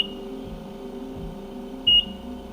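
Oxygen concentrator alarm triggered by a kinked tube, a single short high beep over a steady machine hum.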